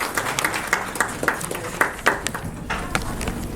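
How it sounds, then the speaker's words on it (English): A modest audience at a book launch and lecture event claps in welcome, scattered, distinct hand claps close by with an uneven rhythm, thinning toward the end. "Let's start with a great applause to welcome everybody."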